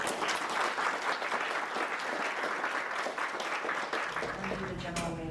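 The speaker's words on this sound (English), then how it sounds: "let's just give them a round of applause" An audience at a career panel gives sustained, dense applause that holds steady for about four seconds, then cuts off as a voice begins speaking.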